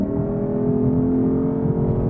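A Lexus IS 500 F Sport's V8 engine gives a loud, steady, close-up rumble that holds an even, throaty drone throughout, with no talking.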